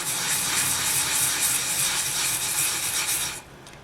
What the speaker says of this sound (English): essentially you're just going to wet your grit and then just sand